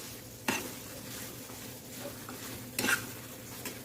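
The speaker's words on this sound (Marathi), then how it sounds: "गॅस लो करूनच खवा भाजून घ्यायचा आहे" Khoa roasting in a kadhai over a low gas flame for karanji filling, a soft steady sizzle broken by two sharp scraping stirs of a spoon against the pan, close and without voices.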